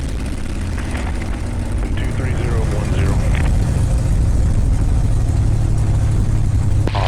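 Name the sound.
aircraft engine running at 2,300 RPM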